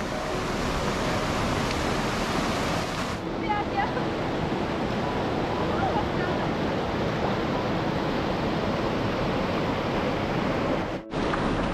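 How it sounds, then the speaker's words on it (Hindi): Steady, dense hiss of sudden rain pouring down close by near the Tisa River in Longding, Arunachal Pradesh, a continuous broadband wash with wind-like rumble, briefly cutting out near the end. "अचानक से बारिश आ गई है, मौसम बिगड़ गया है"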